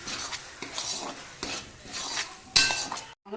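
Carrot halwa being stirred with peanuts in a pan, a utensil scraping and clinking against the metal in repeated strokes, with a soft sizzle underneath and a sharper clink near the end.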